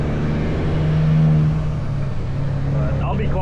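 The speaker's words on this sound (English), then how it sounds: "let you guys listen to the truck and shifting and everything else as we get on" A semi truck accelerates onto the I-55 interstate, its loud diesel engine droning steadily with a shift partway through, continuous and close.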